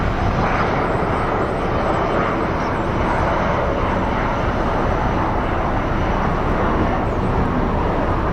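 Airplane engine roar on an active runway at Phoenix Sky Harbor International Airport, a steady, loud, broadband rumble that holds constant throughout without a break.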